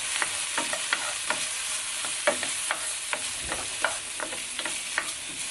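Onions stirred in a frying pan during Nepali home cooking, with a steady sizzle broken by repeated sharp scrapes and clicks of the utensil at a brisk, uneven rhythm, close and alone with no talk.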